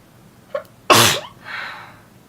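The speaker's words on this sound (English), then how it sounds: "I'm going to sneeze." A single sharp sneeze, preceded by a quick intake of breath and trailing off into a breathy exhale, close and fairly loud.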